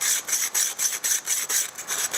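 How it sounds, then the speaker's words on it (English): Silicon carbide grit grinds a lid into its gallery in quick, rhythmic back-and-forth strokes, a close gritty rasping repeated about eight times in two seconds. "the silicon carbide is grinding in the gallery as well as the lid, so it's going to sit in there perfectly"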